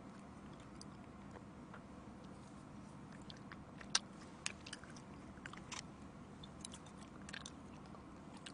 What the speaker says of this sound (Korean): 어제 꿀은 일단 크래커에 올려서 먹겠습니다